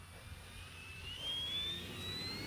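A Draco airplane lands with a steady engine roar and a thin rising whine, fairly close, heard alone without talk.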